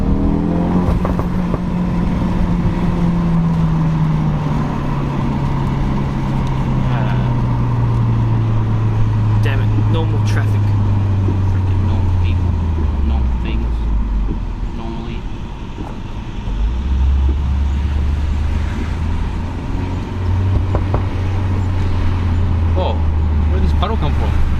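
Ford RS engine drones loudly inside the car on a rocky mountain road, pitch sliding down through a long gear, dipping briefly, then climbing again as it drifts, with people talking over it throughout.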